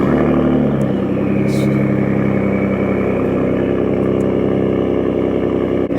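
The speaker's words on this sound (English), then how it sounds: "The freaking turbo, just listen to it." A Ford F150 with a 3.5 EcoBoost turbo engine and an AWE exhaust idles just after starting, giving a loud, steady, close-up drone with a faint whistle on top.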